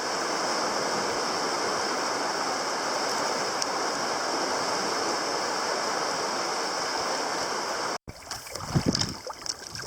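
A river flows beside a grassy campsite as a steady broadband rush of water, close and constant, ending in a cut to rustling and handling noise.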